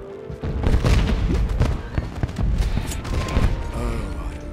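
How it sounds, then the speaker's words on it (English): Fireworks bursting in the Shrek Forever After Wii game, a dense run of booming, crackling blasts that overlap continuously without a break. "Fireworks"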